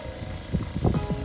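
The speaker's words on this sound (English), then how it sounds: "Just point and spray." An inexpensive airbrush kit sprays a mist of paint with a steady, close, continuous air hiss, broken by a few soft low knocks and rustles from handling.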